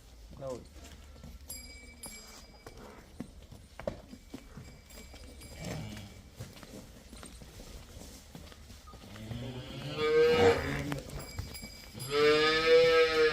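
Cattle moo loudly near the end, two long bellowing calls, after a stretch of scattered farmyard noises and knocks with people talking.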